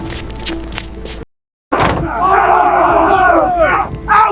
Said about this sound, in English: But the crowd only grew angrier.